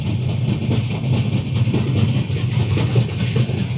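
A Humsafar Express running nonstop between Jangipur Road and New Farakka Junction produces a steady, loud rumble of wheels and carriage with a constant low engine drone, no breaks in the sound.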